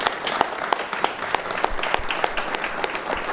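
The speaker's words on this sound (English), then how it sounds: "If we could give them a round of applause." An audience applauds a panel discussion's panelists with dense, steady clapping. Sharp individual claps stand out at a quick rhythm and hold at an even, moderately loud level for the whole stretch, with no talking.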